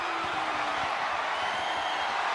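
The arena crowd at a wrestling match in WWE 2K24 gives off a steady, dense roar of cheering, loud and continuous throughout with no distinct breaks.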